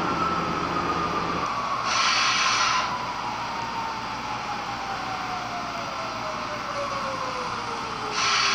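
An R46 subway train from the Hmmsim 2 simulator runs steadily with a loud, continuous rumble and a long descending whine, while brief bursts of hiss break in twice.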